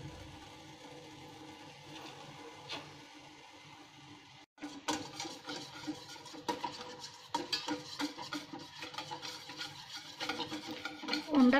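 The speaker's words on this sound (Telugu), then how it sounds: "ఇప్పుడు మనం బియ్యం పిండి వేసుకొని ఉండలు కట్టకుండా కలుపుకోవాలి." Rice flour is stirred into melted ghee in a pan: a spoon scrapes and taps against the metal in quick, uneven strokes, soft at first, then louder and busier, with no talk.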